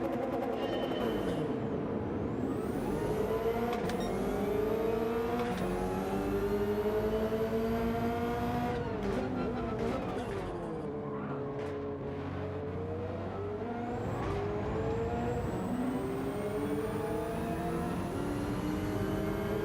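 Racing car engines in the video game Gran Turismo 7 drone and rise through gear changes, with steady revving pitch sweeps, upshifts and downshifts continuing loudly throughout.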